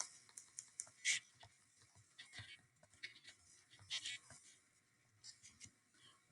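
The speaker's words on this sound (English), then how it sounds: "when I type this one in" Keys pressed on a calculator keypad while entering monthly compound interest figures: a handful of faint, scattered clicks in a quiet room.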